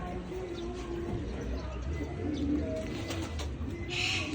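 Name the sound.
pigeons cooing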